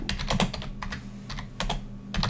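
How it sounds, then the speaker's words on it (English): Rapid typing on a computer keyboard for a voice-to-text dictation demo, with irregular bursts of close, crisp key clicks and short pauses between runs over a low room hum. "I'm just typing these in."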